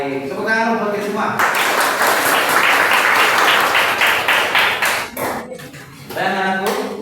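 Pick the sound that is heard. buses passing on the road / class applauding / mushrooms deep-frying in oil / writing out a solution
class applauding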